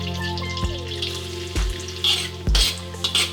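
Ginger frying in butter in a pan for goat kaldereta, a steady close sizzle broken by a few sharp knocks and scrapes of stirring, with no talking over it.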